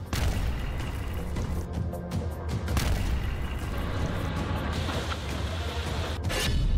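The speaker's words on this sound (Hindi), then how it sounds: "ये धमाका देखिए, ऐसा धमाका यूक्रेन में पहली बार हुआ।" A loud, continuous blast and rumble with crackling bursts from an explosion in Kharkiv, Ukraine during the war, sustained and heavy throughout, with debris and echoing booms.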